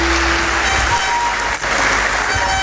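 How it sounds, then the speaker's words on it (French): An audience applauds after a speech by a representative of the UEMOA commission, a dense, loud, unbroken wash of clapping that carries on steadily throughout. "On l'applaudit encore bien fort, s'il vous plaît."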